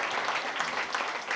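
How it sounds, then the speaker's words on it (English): A crowd applauds steadily at a political speaking event with Justin Trudeau: a dense, even patter of clapping hands that fills the short moment without any talk. "You can give yourselves a round of applause."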